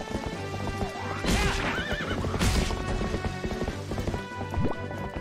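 Horse in The Legend of Zelda: Twilight Princess, steady clip-clop of hooves at a run with two loud, close whinnies over the game's background music.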